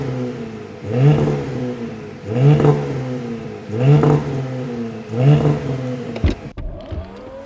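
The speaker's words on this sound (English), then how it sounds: "and of course, the sport exhaust" A 2022 Porsche Panamera with sport exhaust revs five times in a steady rhythm, each loud rising roar falling away, followed by a short clattering burst at the end.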